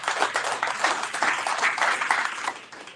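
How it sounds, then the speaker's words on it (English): An audience at a business sales and marketing event gives a round of applause for a sponsor, a fairly dense, moderately loud patter of many hands that fades slightly toward the end. "Big round of applause."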